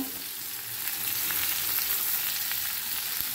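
Onions frying in a pan, a continuous close sizzle with soft stirring scrapes throughout, no voices.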